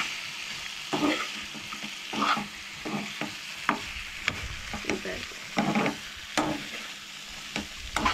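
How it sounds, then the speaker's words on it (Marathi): A chilli mixture fries on a hot tawa for a Goan Holi non-veg dish, giving a steady sizzle broken by repeated scraping and stirring strokes at an uneven rhythm, close and moderately loud, with no talk. "मातशें अशें न्हय तव्याचेर अशें फ्राय करपाक दवरूंक जाय"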